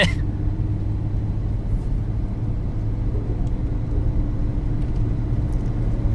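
An old van on a slick, snow-covered road, slipping its tires while picking up speed, heard from inside as a steady, loud low engine and road rumble with no break.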